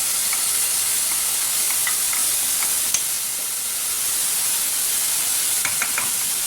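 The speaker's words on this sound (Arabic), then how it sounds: "نضيف الثوم مع البصل باش ما ينحرقليش الثوم" Garlic and onion frying together in a pan, giving a steady close hiss of sizzling oil with occasional faint ticks and light pops.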